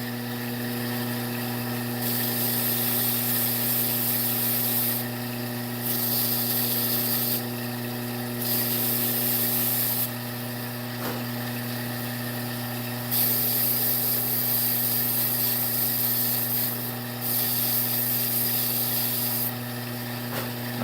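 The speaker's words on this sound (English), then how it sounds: "just a light sanding because I don't want to take too much off" Rhythmic rasping as sandpaper lightly rubs a spinning wooden bowl, in repeated passes of a few seconds each over a steady machine hum.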